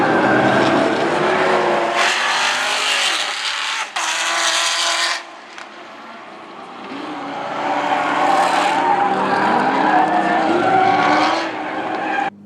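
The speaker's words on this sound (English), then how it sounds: "high-performance car getting annihilated on a racetrack by a bunch of Mazda Miatas and Mini Coopers" Race cars on a racetrack, a ZL1 Camaro among Mazda Miatas and Mini Coopers, roar past with revving engines and tire squeal, loud and close with a brief lull midway before the engines swell again.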